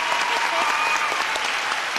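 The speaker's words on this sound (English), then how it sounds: "Little applause." Studio audience at a 1988 $100,000 Pyramid game show breaks into steady, loud clapping, a dense sustained burst of many hands with a faint voice mixed in.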